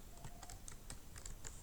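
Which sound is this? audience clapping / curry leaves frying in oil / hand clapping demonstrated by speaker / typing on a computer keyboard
typing on a computer keyboard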